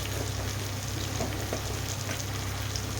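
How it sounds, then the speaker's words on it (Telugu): Tomatoes and vegetables fry in a pan with a steady, dense sizzle that holds at an even level throughout, close and continuous with no voices. "టమాటా, ఇవన్నీ ఒక 5 నిమిషాలు వేయించుకోవాలి."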